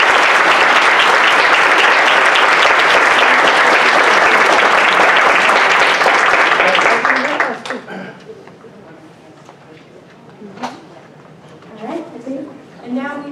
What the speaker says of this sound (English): So let's give a big round of applause for our leaders.